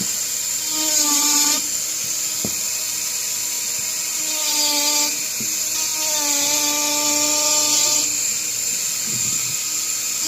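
Dremel rotary tool with a burr carving a wood spirit face into wood, a steady high-pitched whine that rises and dips in pitch over several passes, with a few sharp clicks as the bit touches the work, close and loud with no talk.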